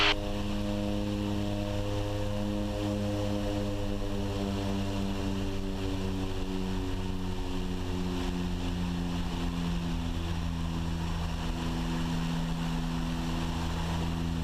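Turboprop skydiving aircraft engines drone steadily with a propeller hum, the pitch slowly sliding lower as they keep running after a grass landing, loud and continuous with no talking.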